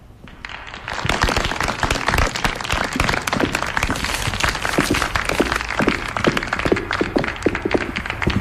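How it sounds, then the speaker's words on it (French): An audience at a public poetry reading breaks into loud, dense applause that swells after a quiet start and continues steadily, many hands clapping close together with no talk over it. "On l'applaudit bien fort."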